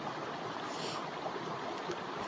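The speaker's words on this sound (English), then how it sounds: "This is just a little small stream." A small brook flows in a forested hiking area in Washington, where brook trout live. The water makes a steady, low babble with some light wind noise, and no one speaks.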